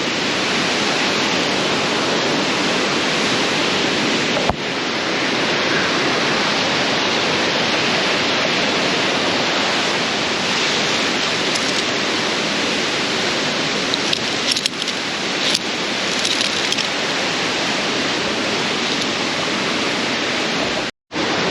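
A powerful waterfall in Gasterntal, Kandersteg, Switzerland, roars close by in a loud, constant rushing hiss, with occasional brief knocks and a sudden cutoff at the end.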